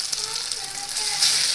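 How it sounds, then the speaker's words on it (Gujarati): Kothmir vadi, coriander fritters, are added to hot oil in a pan and hiss with a soft, continuous sizzle that swells slightly toward the end. "તો તેમાં આપણે આપણી કોથમીર વડી એડ કરી દેશું"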